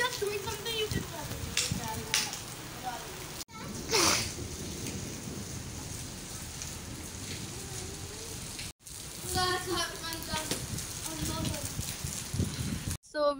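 Rain pours outdoors during a hair wash, a loud continuous patter and hiss with a few sharp splashy knocks and brief cutoffs, while people talk over it.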